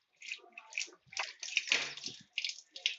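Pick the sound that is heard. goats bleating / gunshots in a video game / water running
water running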